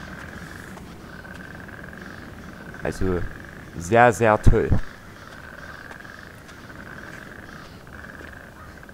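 Frogs in the video game Pineview Drive keep up a faint, steady trilling croak in the background throughout, while someone speaks briefly over it partway through.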